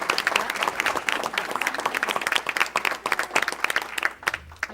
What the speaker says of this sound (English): One more round of applause for these amazingly talented students